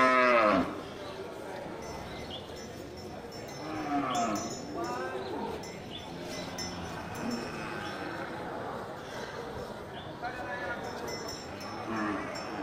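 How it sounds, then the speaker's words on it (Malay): Large fattened local cattle moo repeatedly at a busy livestock market, several drawn-out calls from mid-distance rising over a steady crowd murmur and background chatter. "sapi-sapi besar yang masuk."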